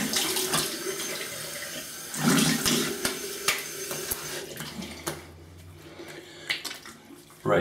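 A razor rinsed under a running tap during a wet shave with Turtleship Shave Co. Te Java soap, steady close water flow with splashes and knocks, fading toward the end.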